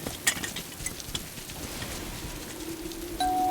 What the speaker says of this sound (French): Mais ce n'est pas de la pluie, c'est un déluge.